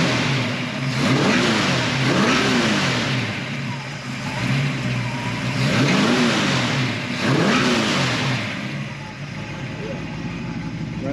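A warmed-up 1966 Ford Mustang GT V8 revs repeatedly, three rising-and-falling throttle blips spaced a few seconds apart over a steady idle, loud and close with no speech.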